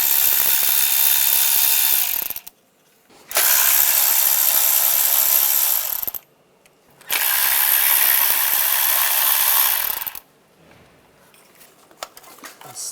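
A hand ratchet with a 10mm socket loosening bolts on a 1996-2002 Toyota 4Runner engine, three close runs of fast metallic clicking with short pauses between.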